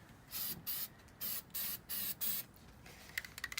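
Six short bursts of aerosol rubber sealant spraying, each hissing loudly for about a third of a second, evenly spaced, followed by faint rattling clicks at the end.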